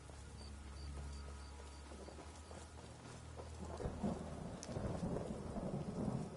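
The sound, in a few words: rain in the video game Skyrim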